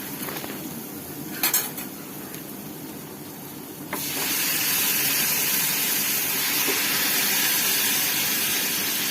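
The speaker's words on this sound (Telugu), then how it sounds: "ఇప్పుడు చికెన్ పీసెస్ వేసుకుందాం." Chicken pieces hit a hot pan of fried onion and ginger-garlic paste for a spicy chicken ghee roast, a steady loud sizzle that jumps up midway with a few clinks of a utensil against the pan.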